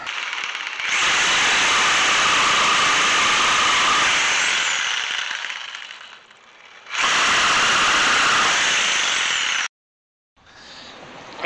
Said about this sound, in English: I definitely like the sawzall better. It does scrape up the wood, but it doesn't leave that burn mark